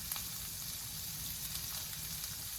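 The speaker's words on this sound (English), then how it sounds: "now I'm gonna add my onions, garlic, and pepper." Onions, garlic and pepper sizzle in a pan as a steady, fairly quiet crackle with no breaks and no voices.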